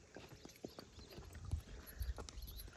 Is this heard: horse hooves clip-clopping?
yes